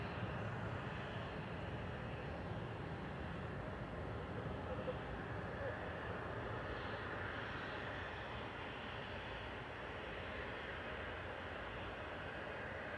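An Air Transat airliner landing at Manchester Airport, a steady distant engine roar with a broad rumble that persists evenly throughout, heavy reverse thrust braking blended into the drone.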